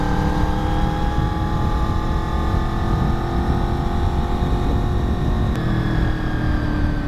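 Honda VFR800 motorcycle engine running steadily while riding, a loud continuous drone with layered harmonics that holds for the whole stretch and shifts pitch slightly near the end.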